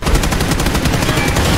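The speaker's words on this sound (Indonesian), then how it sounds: "Kayaknya tadi aku dengar ada suara tembakan loh" Loud, rapid bursts of automatic gunfire from the video game PUBG form a continuous rattling volley close by. No talk is heard over the shots.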